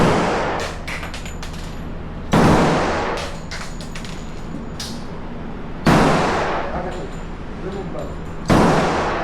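Four loud, sharp video game gunshots spaced a couple of seconds apart, each with a long decaying tail, over a steady hum and faint chatter.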